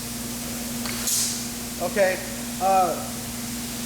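A spraying system mists syrup onto passing pans, with a quick hissing burst followed by a steady background hum; someone talks briefly over it.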